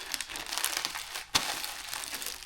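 A plastic package of clothing being folded and pressed shut, a steady close crinkling rustle broken by one sharp crackling snap partway through, with no talk.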